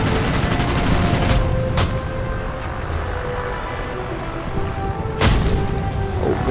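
Machine gun fire from warplanes in World of Warplanes, a dense continuous rattle with a couple of louder bursts standing out, heavy and close over engine roar.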